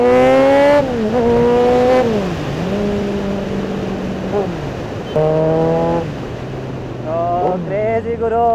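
Kawasaki Z900 superbike revving and accelerating hard through gear changes at an auto expo ride in Mysuru, loud close engine whine rising and dropping in pitch with wind rush, other bikes revving around.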